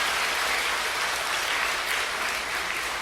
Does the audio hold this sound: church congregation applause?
yes